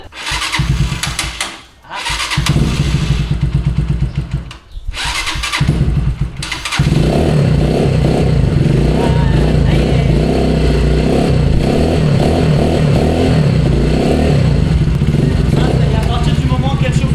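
A motorcycle engine coughs and stutters through a difficult start, stalls briefly, then catches and runs loud and steady as it warms up before an oil change, with a voice briefly heard near the start.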